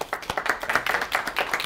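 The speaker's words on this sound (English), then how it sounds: "Can we clap for Kathleen?" A small lecture audience claps for Kathleen, a brief burst of dense, steady hand claps at close range with no talking.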